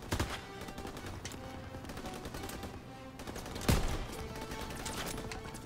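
Rapid bursts of automatic gunfire rattle almost continuously at a moderate distance in Call of Duty: WWII's D-Day mission, with one louder, sharper shot standing out partway through.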